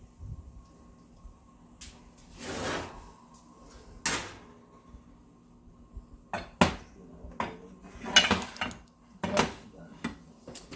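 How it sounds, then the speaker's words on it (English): Brunch cooking in a home kitchen as rolls come out of the oven: scattered clanks of the oven door and metal pans, several sharp bumps and rattles separated by quiet moments. "Let me go ahead and get out the get my rolls out of the oven."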